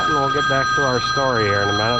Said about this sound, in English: So that's the phone, and I'm gonna have to answer that